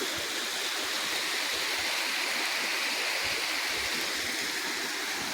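Water pours steadily over the waterfall at Chakratirth in Keonjhar, a dense, even rushing roar that holds unbroken throughout, close and without talk.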